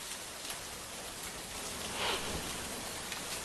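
Heavy rain in Mumbai, a steady broadband hiss of downpour with no voices, holding even and moderately loud throughout with a slight swell near the middle.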